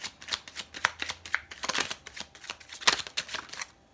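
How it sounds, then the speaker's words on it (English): Tarot cards handled and shuffled for a modified Celtic cross spread, a run of quick dry riffling flicks and soft slaps, close and fairly quiet, with no talking. "I just had to reorganize the cards, and I'm just going to grab one more"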